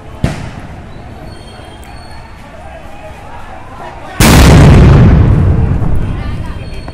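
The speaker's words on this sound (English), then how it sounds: "firing tear smoke shells" Police fire tear gas shells at protesters on a university campus: a sharp report opens, then a loud booming burst follows a few seconds later and leaves a lingering roar.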